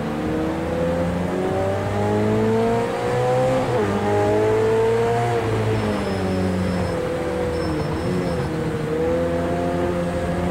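Race car engine roaring in an Xbox One X racing game, with the pitch climbing and dropping as the driver shifts and steers, loud and unbroken throughout with no voices.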